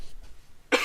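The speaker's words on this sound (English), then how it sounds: "I'm gonna try not to cough in your ear." A single short, sharp cough bursts out near the end from a gamer playing Heroes of the Storm, close to the microphone after a near-silent stretch.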